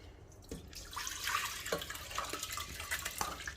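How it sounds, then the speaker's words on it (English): Lentils and water splash and pour into a pan with soft clattering, a steady wet rush for a few seconds with no talking. "we're going to put this all into the pan with the water"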